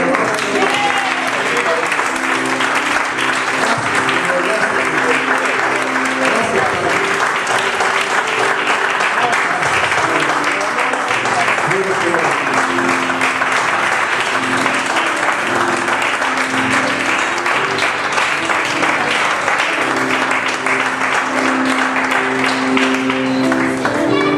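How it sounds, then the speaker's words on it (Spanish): A church congregation applauds for the Lord with sustained, loud clapping, a dense steady wash running the whole stretch, with faint voices and musical tones mixed underneath. "aplauso más al Señor."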